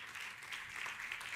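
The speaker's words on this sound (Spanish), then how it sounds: "Vamos a dar un fuerte aplauso a Carles Boyato" Applause from a conference audience for a speaker, a short, faint, even patter of clapping heard from a distance.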